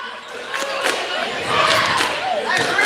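A crowd in a gym at a high school basketball game chants a defensive cheer, a rolling mass of voices with rhythmic shouts and sneaker squeaks and ball sounds underneath.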